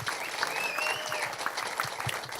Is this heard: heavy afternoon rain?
no